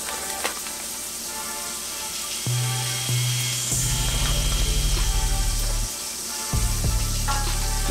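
Knobs of butter sizzling in a hot pan alongside corned beef, a loud continuous fry with bursts of spattering and scraping, no voices.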